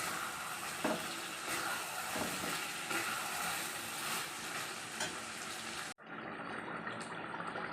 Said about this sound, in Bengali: এবার আলুগুলো ঢেলে দেবো আলুগুলো দিয়ে একেবারে একটু কষে নিয়ে জল ঢেলে দেবো